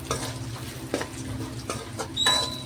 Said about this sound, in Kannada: ಈಗ ಶೇಂಗಾ ಪುಟಾಣಿ ಹಾಕೊಳ್ಳತ್ತೀನಿ ನೋಡಿರಿ ಇದಕ್ಕೂ ಚಂದ ಈಗ ನಾನು ಫ್ರೈ ಮಾಡ್ಕೊತೀನಿ